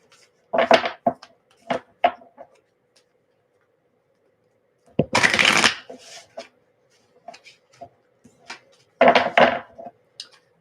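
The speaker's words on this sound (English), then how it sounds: "Let's shuffle these ones really quick." Tarot cards are shuffled in a few separate bursts of riffling and soft tapping, close and fairly loud, with short quiet gaps and light handling clicks between them.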